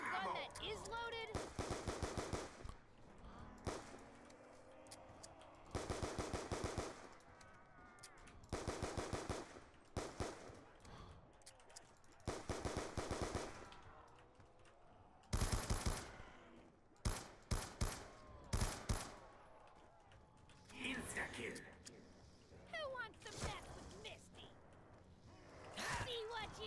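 Bursts of automatic gunfire from Call of Duty: Black Ops 2 on the Buried map come in repeated loud rattling volleys with short gaps between them. Players talk over the shooting.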